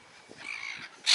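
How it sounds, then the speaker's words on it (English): Greedy crows give a short run of harsh calls in a town, faint at first, then a louder burst at the end with no talking. "You horrible, greedy birds."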